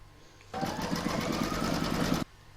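An embroidery machine stitches an in-the-hoop scissor holder and pin cushion, securing fabric layers flat in the hoop: a steady, loud, close mechanical whirr with fast rhythmic needle chatter that starts abruptly and stops cleanly after about two seconds.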